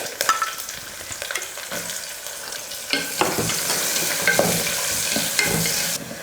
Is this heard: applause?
no